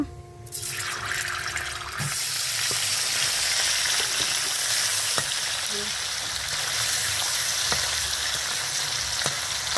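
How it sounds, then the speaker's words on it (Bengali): Cut paneer frying in oil in a pan, with a bright, continuous sizzle and scattered small pops and crackles, close by and with nobody talking. "পনিরটা কেটে নিয়েছি, এখন ভেজে নেব।"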